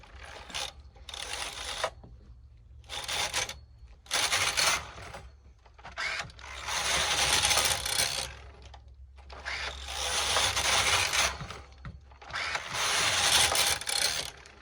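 Brother KH910 (Knitking) knitting machine carriage sliding back and forth across the needle bed, loud mechanical clattering passes in repeated bursts of a second or two separated by brief pauses, with no talk.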